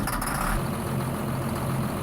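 A John Deere tractor engine idles in Farming Simulator 19, giving a steady low mechanical rumble with a faint hum above it. It holds constant and moderately loud, alone without talk.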